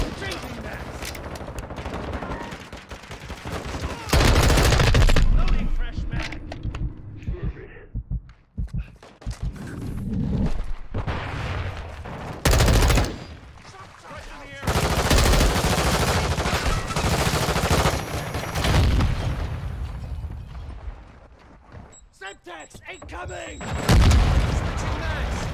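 Gunfire rattles through a Call of Duty-style Search and Destroy match, with loud repeated bursts and booms separated by quieter gaps. A voice talks at points.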